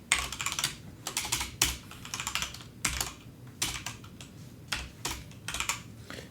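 Typing code on a computer keyboard, bursts of rapid clicking keystrokes separated by short pauses, close and clear with no talking.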